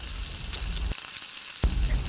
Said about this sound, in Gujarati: તેલ ગરમ થઈ જાય એટલે 1 ટીસ્પૂન રાઈ એડ કરીશું, હાફ ટીસ્પૂન જીરું એડ કરીશું